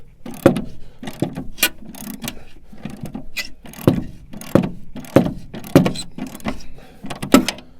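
A hand ratchet works loose a rusted bolt on a 1973 Dodge Dart Swinger, giving repeated short bursts of close, loud clicking strokes with brief pauses between them.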